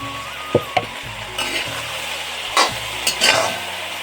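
Duck meat frying in a pan over a wood fire, a loud continuous sizzle broken by scraping stirs and sharp clacks of a spatula against the pan, with brief bursts of louder crackle.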